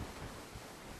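Strong wind gusts in a steady broadband roar that buffets the microphone throughout, with no voices.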